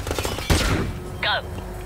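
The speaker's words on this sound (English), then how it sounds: "Flashbang out." A flashbang and gunfire in a Call of Duty game: a sharp burst of shots and a bang early on, then a short whistling tone. Squad voice chatter runs underneath.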